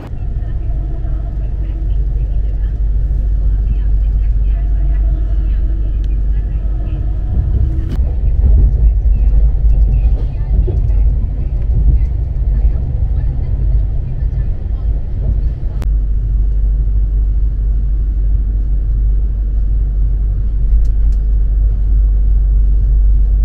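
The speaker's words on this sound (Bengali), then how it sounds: "ট্রেন এই মুহূর্তে ছাড়লো হচ্ছে আসানসোল জংশন" The Sealdah Rajdhani Express (12314), heard from inside an AC two-tier coach as it runs on after leaving Asansol Junction, gives a steady, loud, low rumble throughout, with muffled voices at times.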